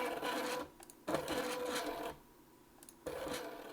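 Stepper motor driven by an Ethersweep Ethernet motor controller, whirring in two bursts separated by short pauses as it steps one way and then back, fairly close and faint, with no one talking.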